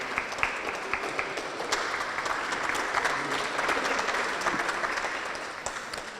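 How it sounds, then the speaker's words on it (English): A round of applause for scholarship donors at a university student and donor scholarship party: fairly quiet, sustained clapping from a roomful of guests, with a few sharper individual claps standing out from the steady wash. "I would like to give those folks that have red lettering on their name tag a round of applause"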